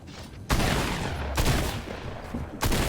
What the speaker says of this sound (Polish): O, jeszcze ktoś do mnie strzela z pleców.